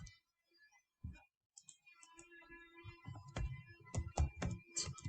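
Keys clatter on a computer keyboard as a search query is typed, starting with a few isolated taps and building into quick, close, irregular bursts of clicking.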